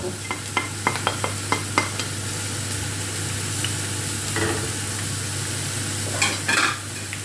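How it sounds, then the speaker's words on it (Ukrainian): Carrots and onion fry side by side in a pan for cabbage soup, giving a steady sizzle with a run of sharp stirring clicks early on over a low background hum. "І ось так будемо жарити, так виходить швидше."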